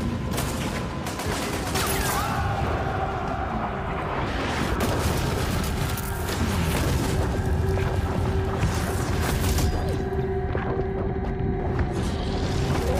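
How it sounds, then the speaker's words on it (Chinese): Artillery fire and explosions in a Russian war film set around an air-raid shelter, a continuous dense roar of battle with repeated booms and crashing debris, loud and unbroken. "周围战火连天，炮声不断"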